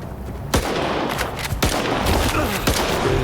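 Rapid handgun fire from a 9mm pistol in the S.T.A.L.K.E.R. 2 video game, several sharp loud shots in quick succession over a dense, continuous game-sound backdrop.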